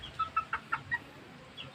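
A chicken clucks nearby, five or six quick rhythmic clucks in a row, then a softer one after a short pause.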